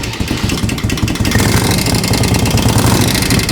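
A 1958 Harley-Davidson FLH motorcycle that sat unused for over 20 years fires up on the first kick, its engine loud and close, settling into a steady, rapid rumble.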